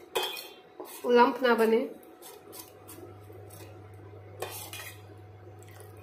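Ragi porridge for a baby stirred in a pot over a low flame: a metal spoon scrapes and clinks against the pot in short bursts, with a person speaking briefly over a low steady hum.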